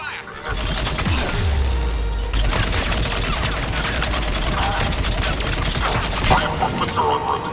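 Mass Effect 3 combat, with dense rapid gunfire crackling loudly and continuously under a heavy low rumble, while voices talk through the action.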